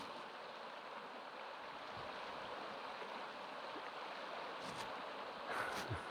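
The Rio Grande flows through the mountains of northern New Mexico, heard as a steady, faint broadband wash of moving water, with a few soft splashes near the end and no voices.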